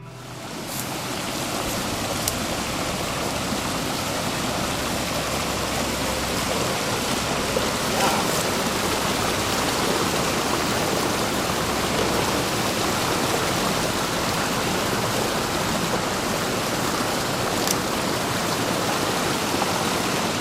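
Liquid sludge, oil and chemicals pour from an underground pipeline into a river, a continuous loud rushing wash that holds steady for the whole stretch with no voices.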